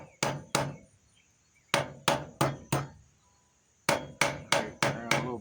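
A hammer forges a Bowie knife blade, ringing metal-on-metal blows struck in quick bursts of two, four and five with short pauses between, loud and close.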